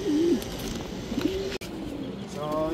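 Racing pigeons coo softly in low, rolling phrases, repeated a few times close by against a steady background hum.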